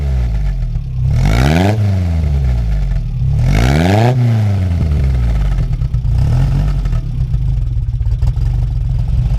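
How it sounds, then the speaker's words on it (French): A Renault Alpine A110 1600 SX with a tubular exhaust manifold idles and is blipped twice, its engine note rising and falling in two sharp revs before settling into a rough, burbling idle, close and loud with no speech. "vous allez maintenant entendre le son de l'échappement qui signe tubulure."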